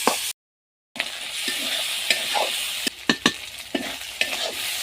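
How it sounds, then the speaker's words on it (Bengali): Chicken pieces sizzle in a pan with turmeric, a dense close-up frying hiss punctuated by several sharp stirring scrapes, with a brief silent dropout near the start. "এর মধ্যে এখন আমি চিকেনগুলো দিয়ে দেব আর দিয়ে দেবো সামান্য একটু হলুদ। এভাবেই আমি একটু এটাকে ভেজে নিব।"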